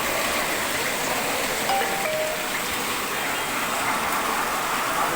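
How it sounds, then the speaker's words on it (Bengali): Heavy rain pours with strong wind, a dense and steady outdoor wash of noise that stays constant throughout with no talking. "বাতাসও আছে ভাই বৃষ্টির সাথে দেখছেন বাতাস দেখেন"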